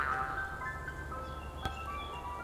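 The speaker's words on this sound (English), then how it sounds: "That's a vintage ice cream truck." A vintage ice cream truck plays its tinkling jingle melody, steady and moderately near over low background rumble, with a brief sharp click partway through.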